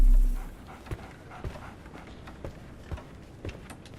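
A dog in the Sherlock Holmes: The Awakened video game pants and moves about, giving rhythmic soft thumps about every half second after a brief low hum at the start, with no speech.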